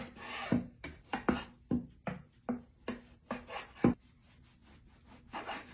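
A knife saws through a loaf of bread, cutting it into cubes for a French toast casserole. About a dozen short, crisp rasping strokes come close and distinct in quick rhythm, then fade to quiet with a faint final scrape.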